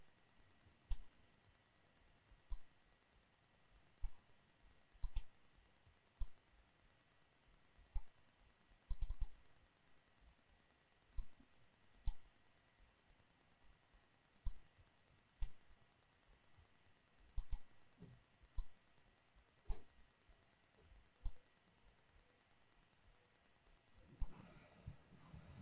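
Computer mouse clicks while vector shapes and bezier points are edited, sharp isolated clicks at irregular intervals, some in quick doubles, over a very quiet background.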